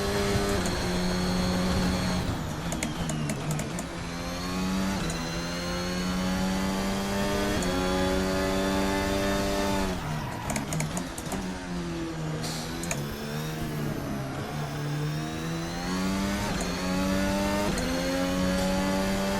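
F1 2022 mod race car in the Assetto Corsa racing game, its engine screaming at high revs for the whole stretch, with pitch climbing and dropping through repeated gear shifts and throttle lifts, loud and close with no talking.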